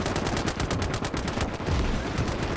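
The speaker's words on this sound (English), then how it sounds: "And here are some big guns. Some big guns working." Heavy gunfire and artillery fire from the Gates of Hell video game, depicting the Mannerheim Line breakthrough at Lähde, form a dense, continuous barrage of rapid booming reports with no pauses.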